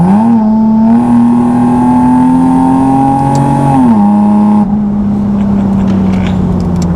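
A supercharged 400 WHP Nissan 370Z pulls hard in 4th gear, its loud exhaust drone climbing steadily in pitch, dipping briefly at a shift or lift around the fourth second, then carrying on strong and close throughout with no talking.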